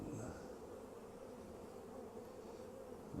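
Honey bees hum at an open hive, a faint, continuous buzzing drone held steady and close for a few seconds with no voices.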